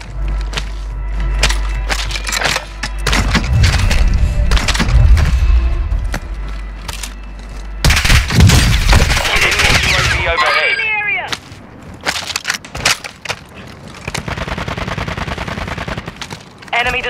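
Dense gunfire from the Call of Duty Modern Warfare 2 Warzone video game, with loud rapid automatic bursts and explosions running almost continuously, plus in-game callouts and radio chatter layered over the shooting.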